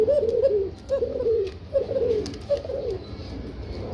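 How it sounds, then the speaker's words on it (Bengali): A pair of Kuka pigeons coo in repeated low, rolling phrases, about five bursts in four seconds, close and clear with a faint background hum and no talk. "একজোড়া কুকা কবুতর দেখছেন খুবই চমৎকার ডাকাডাকি করে"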